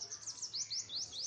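A small bird repeats quick, sharp upward chirps in a steady rhythm through a village morning, fairly close and clear, with a quiet low background and no voices.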